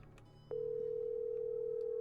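A click comes as the telephone line opens, then a steady, continuous dial tone holds clearly at close range, alone apart from low room noise.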